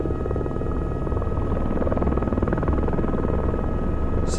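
A military helicopter in the Squad shooter, available to PLA forces, drones steadily up close, its rotor thump and turbine whine holding a constant loud level with no other sounds over it.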